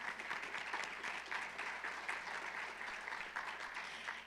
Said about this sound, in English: So just give them a quick round of applause.